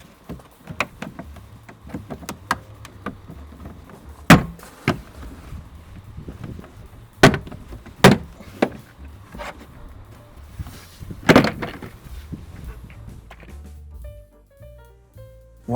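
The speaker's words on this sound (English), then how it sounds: "starting from the corner, I'm just going to prise this panel off" Plastic interior trim panel prised off a Kia EV6: a series of sharp clicks and pops at irregular intervals as clips release, close and fairly crisp over a quiet background.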